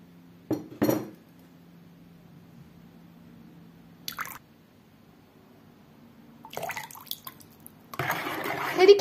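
A spoon stirs and taps a mix of baking soda and apple cider vinegar in a bowl, giving a few short clinks and scrapes with quiet pauses between them, and a brief wet fizzing scrape at the end.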